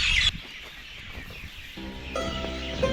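Birds calling from nests in a large village bush at dusk in rural Pakistan, a busy mix of chirps and clucking calls with a brief louder burst at the start, heard at moderate distance without voices.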